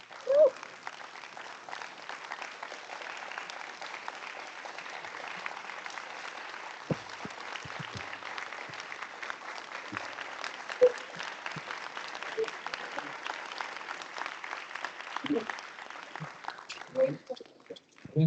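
An audience at a board of education meeting gives a long, steady round of applause, many hands clapping evenly at moderate loudness for the full stretch, with a few louder claps and some voices mixed in.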